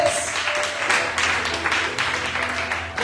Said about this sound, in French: On acclame le Seigneur pour le batteur.